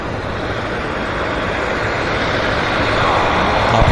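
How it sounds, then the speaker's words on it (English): Central Mountain Air Dash 8 turboprop taxiing at Vancouver Airport, a loud, continuous broadband roar that builds slightly toward the end. "here comes a Central Mountain Air. Dash 8."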